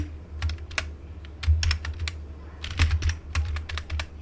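Computer keyboard typing Python code, rapid irregular clicks and key taps in close bursts with brief pauses, no voices.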